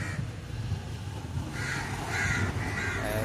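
Crows cawing outdoors near a tree, with a series of harsh, repeated caws in short bursts over faint background noise, and no talking.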